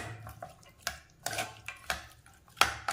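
Chopped onions are stirred into beef chukka with a spoon against a metal pot, giving several separate clinks and scrapes at an irregular pace, close and fairly quiet.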